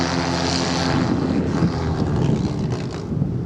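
An aeroprop propeller-driven boat runs steadily in a loud, constant drone with a rushing wash and wind buffeting the microphone throughout.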